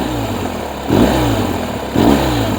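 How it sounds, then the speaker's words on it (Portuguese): A 2023 BMW R1250R motorcycle revs hard twice, its engine note swelling loud and close in two surging bursts over a steady idling rumble. "A moto torce-se toda quando eu acelero, olhem."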